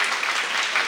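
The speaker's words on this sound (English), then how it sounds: "to have a huge round of applause for the keynote speakers who made their way all the way from Turkey" Brief burst of steady audience applause at an international linguistics and literature symposium, a loud dense clapping wash cheering the keynote speakers.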